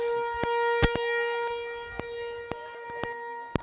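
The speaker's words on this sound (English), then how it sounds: "That siren is starting to get old." A steady, sustained siren tone at a softball regional game holds at one pitch, with faint sharp ticks repeating about every half second underneath.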